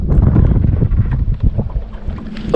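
Wind gusting across a lake during a crappie and white perch fishing outing, a steady low rushing roar buffeting the microphone throughout, fairly loud with no talk.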